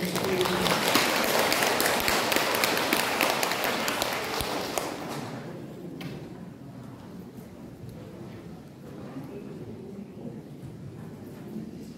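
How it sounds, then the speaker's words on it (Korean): A lecture audience gives loud, dense applause for about five seconds before it thins out into quieter room noise with scattered movement and faint talking. "뜨거운 박수로"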